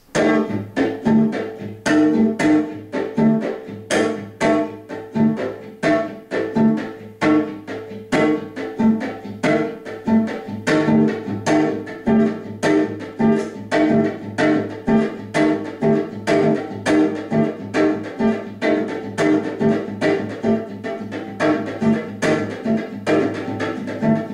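A bowed-string funk groove on cello with rapid, choppy muted strokes and accented notes, played alone in a steady driving rhythm.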